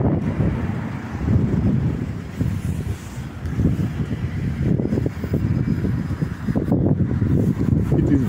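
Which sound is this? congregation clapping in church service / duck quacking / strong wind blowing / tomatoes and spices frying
strong wind blowing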